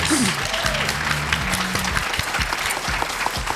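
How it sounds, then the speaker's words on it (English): An audience at a live education law conference breaks into a steady round of applause for the panelists, a dense, continuous clatter of clapping hands with a brief voice at the start. "So give everybody a round of applause."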